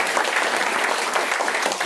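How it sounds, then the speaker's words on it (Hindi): A room of trainees at a product training session claps briefly and vigorously, a short, dense burst of applause with no speech over it. "जोरदार ताली"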